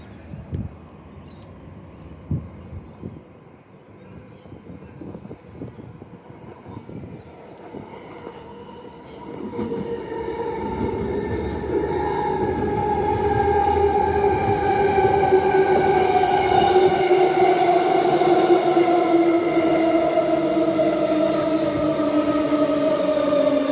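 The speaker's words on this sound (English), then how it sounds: "we have another Byford train coming in" A Byford train on the Armadale line approaching and pulling into Armadale Station, with clanking wheels giving way to rising, steady motor whine and a high-pitched tone; voices talk faintly at the start.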